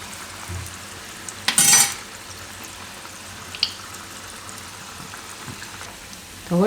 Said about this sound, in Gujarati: તો વડા આપણે આ રીતે તળી લીધા છે